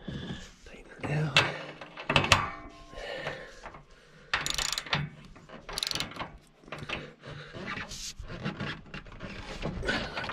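A hand ratchet tightens bolts holding small aluminum billets that turn in a channel, giving repeated clicking pawl strokes in uneven bursts with rubbing and clanking mechanical handling throughout.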